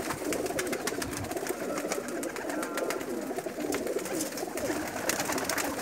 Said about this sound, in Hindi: लेकिन अच्छे हाई फ्लायर कबूतर हैं जी।